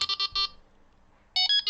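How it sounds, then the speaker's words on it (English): Delkim Txi-D bite alarm being paired with its receiver, giving two bursts of loud electronic beeps, a quick run of four tones, a near-silent pause, then another rapid cluster of tones. "Okay, so all I've got to do now is just activate this alarm."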